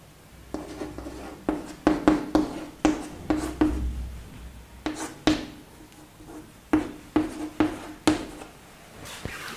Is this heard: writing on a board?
yes